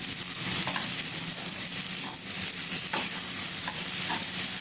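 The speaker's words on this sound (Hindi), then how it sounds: "और इसमें ये पनीर डाल देंगे और ये हरी धनिया, और इसको अच्छे से हम मिक्स करेंगे" Paneer, green coriander and fried potatoes are stirred together in a hot pan for samosa stuffing, giving a steady close sizzle broken by repeated light spoon scrapes and taps, with no talking.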